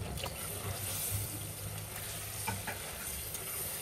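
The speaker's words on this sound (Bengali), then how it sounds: "চিংড়ি মাছ মশলা দিয়ে কষিয়ে নিলাম।" Prawns sauté with spices in a pan, giving a steady low sizzle and frying crackle with occasional scraping stir sounds, moderately quiet and continuous with no talking.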